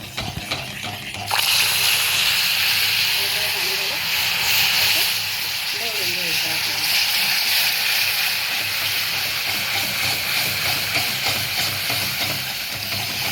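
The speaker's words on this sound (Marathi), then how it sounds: "आता आपण याच्यामध्ये थोडं थोडं पाणी घालणार आहोत" Water added bit by bit to hot caramelized sugar for an eggless, oven-free Christmas cake, giving a loud, steady steamy hiss and sizzle that holds for several seconds after a sudden start.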